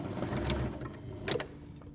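Sewing machine stitching a fabric coat hanger cover in a short, quiet burst of rapid mechanical whirring and ticking.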